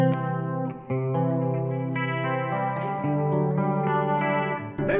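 An electric guitar through a NUX Trident multi-effects pedal on a preset, playing chorus-laden, slightly driven chords with echo, several sustained strums in a row, close and clear with no talking.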